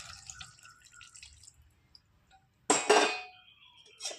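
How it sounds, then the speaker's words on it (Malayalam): Boiled, cooled water splashes briefly into an okra pickle in a quiet kitchen, following faint drips and clinks, with a small clink at the end. "ആ സമയത്തേക്ക് നമ്മൾ എടുത്ത് വെച്ചിരിക്കുന്ന തിളപ്പിച്ച് വെച്ചിരിക്കുന്ന വെള്ളവും ചേർത്ത് കൊടുക്കും."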